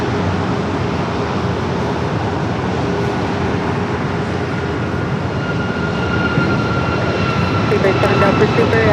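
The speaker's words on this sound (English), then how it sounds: "Alaska heading to Guatemala City, a 737 MAX 8 taking off" A steady, loud jet roar fills the scene as an Alaska Airlines Boeing 737 MAX 8 takes off at LAX. Voices are heard beneath the engine noise, with faint higher tones appearing near the end.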